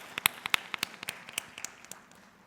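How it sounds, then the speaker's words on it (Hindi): Scattered applause from a small audience at a Hindi kavi sammelan poetry gathering in Pune, with a dozen or so sharp separate claps over two seconds, thinning out toward the end. "उनके लिए भी जोरदार तालियां।"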